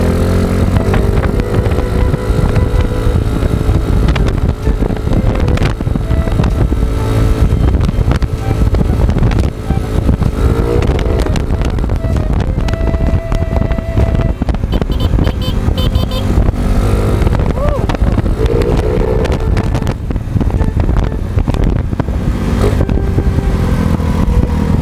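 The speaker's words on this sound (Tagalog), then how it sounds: "parang maingay na yung makina natin guys" A Yamaha Mio Sporty scooter with a 59mm big-bore kit and a noisy engine while riding, a loud, continuous engine drone with heavy wind buffeting on the microphone throughout, pitch rising and falling with throttle changes.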